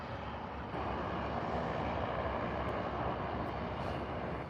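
A jet aircraft rumbles steadily at Calgary airport, a broad continuous roar heard from some distance that swells slightly and holds level throughout.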